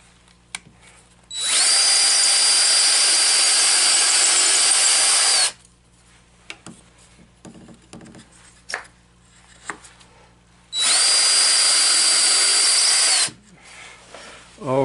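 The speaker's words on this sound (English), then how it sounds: "I'm going to use that little block of wood I cut and drill a couple of holes." A power drill whirs loudly in two sustained bursts a few seconds each, drilling holes in a small block of wood, with quiet shuffling and knocks in between.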